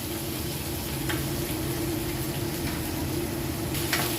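Topside beef sizzling steadily in a hot pan, a continuous close frying hiss with a few faint stirring clicks and no talk over it.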